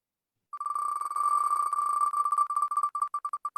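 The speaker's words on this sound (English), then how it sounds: "let's spin the wheel." A prize wheel spins with a bright electronic tone that runs steadily at first, then breaks into ticks that slow and space out as the wheel winds down. There is no talking.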